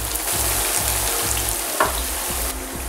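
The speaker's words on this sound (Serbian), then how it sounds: "posle par minuta prženja okrećemo ih i na drugu stranu" Potatoes frying in a pan of oil, a close, continuous crackling sizzle with faint rhythmic low thumps underneath.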